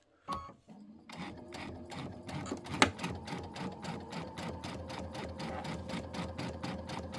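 A sewing machine with a walking foot runs steadily in rapid stitching bursts, including brief back stitching through fabric while assembling a Christmas quilt, close and continuous after a short pause at the start, with a sharp click partway through.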